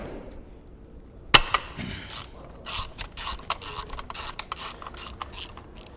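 Ratchet with an 8mm socket working a bolt loose on a GSXR motorcycle during a rear brake line replacement: a sharp click, then quick irregular series of close ratcheting clicks.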